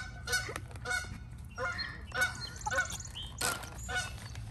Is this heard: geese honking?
yes